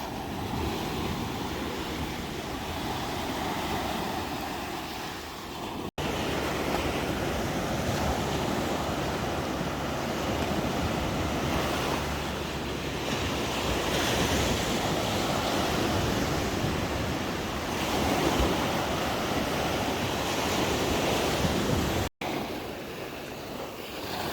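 Sea waves roll and wash continuously at Fuengirola, Spain, with wind noise buffeting the microphone, a steady broad roar with no voices.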